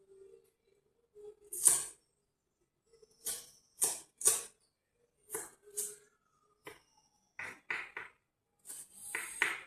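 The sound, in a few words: cutting an onion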